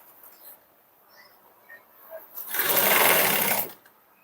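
A sewing machine stitches a blouse seam in a single close burst of rapid whirring that lasts about a second, with only faint quiet sounds before it.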